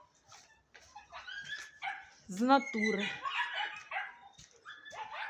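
Puppies and dogs yip, bark and whimper outdoors on an evening walk, with short high yelps bunched in the middle and a person speaking close by over them.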